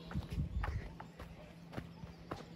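Horse hooves clip-clop on hard ground near Dam Dama Lake, a few distinct sharp steps spaced irregularly, with low rumbling handling noise and faint voices in the background.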